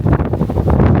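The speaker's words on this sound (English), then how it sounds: "the wind is blowing like this" Strong, violent wind buffets the microphone at the Capelinhos lighthouse on Faial in the Azores, a continuous loud roaring rush with gusty surges throughout.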